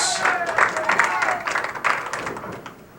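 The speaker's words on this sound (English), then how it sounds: "And a somewhat sarcastic cheer from the crowd here." A bowling-alley crowd at a doubles match gives a somewhat sarcastic cheer with scattered clapping, loud and close, fading over three seconds.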